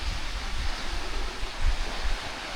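A river rushes steadily near the Dustaqxana waterfall by Sım village in Astara, filling the air with a continuous broadband roar of flowing water and no voices.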